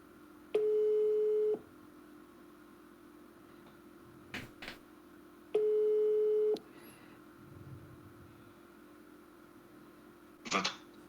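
Two steady electronic telephone line tones after a call transfer, each about a second long and spaced several seconds apart, with faint clicks and handling noise between them and no talk.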